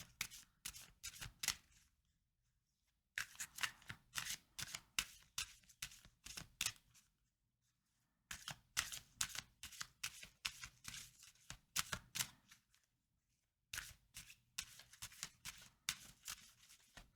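Tarot cards shuffled in repeated bursts of quick riffling, each run of sharp flutters lasting a couple of seconds before short pauses, close and clear with no talking.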